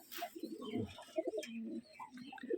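Rajshahi gerebaj pigeons coo softly close by, a few short throaty calls overlapping in a quiet setting.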